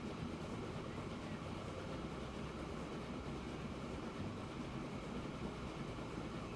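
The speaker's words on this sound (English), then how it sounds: "Yeah, I really like that locomotive." A locomotive in the Transport Fever 2 video game rolls along with a steady, dense rumbling rail noise and faint clatter, constant and fairly quiet throughout.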